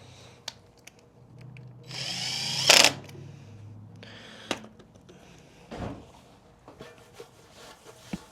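A power tool whirs in a short burst while removing bolts on a 2024 KTM 300 XC-W during a radiator fan install, amid clicks and clanks of handling parts, fairly close.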